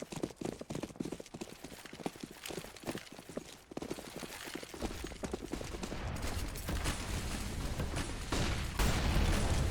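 Video game gunfire in Counter-Strike: Global Offensive comes as rapid rattling bursts and repeated shots, loud and dense. It builds into a thicker, continuous wash of firing and noise toward the end, with no clear talk over it.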